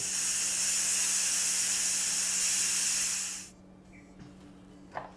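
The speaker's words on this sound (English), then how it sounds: "Let's release the steam or pressure from the pot before we open it." Steam pressure released from a pressure cooker pot of beef stew, a loud, steady hiss lasting about three and a half seconds before cutting off, followed by quiet small clicks and a knock.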